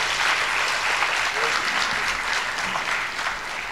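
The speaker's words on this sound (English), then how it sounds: "Shall we give him a big round of applause?" Audience at a university grand durbar ceremony bursts into sustained, dense applause, loud and even throughout with many hands clapping together, the crowd filling the hall.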